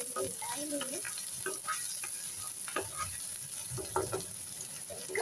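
Garlic frying in a pan for pulishary, a steady sizzling hiss with scraping and clinking of a spoon stirring it close up, while someone talks over it.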